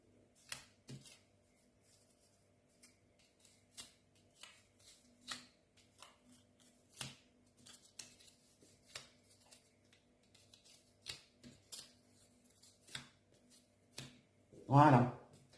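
Tarot-style cards turned over one by one on a table during a love-themed reading, a run of soft, evenly spaced flicks and snaps up close, ending in a louder rustle.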